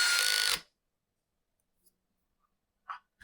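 A power screwdriver whirs briefly and loudly at the start, driving a screw into the plastic housing of a Husqvarna 122L trimmer. Silence follows, broken by a few faint clicks and small knocks at the end. No speech is heard.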